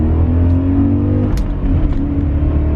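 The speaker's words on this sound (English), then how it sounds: "2nd gear pull at 40." BMW E39 M5 V8 pulling hard in second gear from about 40 mph after new ignition coils, a loud, steady, rising engine roar heard from inside the car with no talking.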